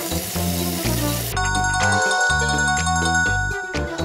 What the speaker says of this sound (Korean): 추위를 많이 타는 딸 걱정에 수시로 전화를 거는 다혜의 엄마